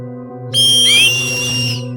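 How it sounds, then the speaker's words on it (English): A spirit of a young boy blows a whistle in a horror film: a single shrill, sustained whistle blast about a second long, loud and close, over a steady low hum. "the spirit of the young boy is sitting directly behind Christian, blowing the missing whistle"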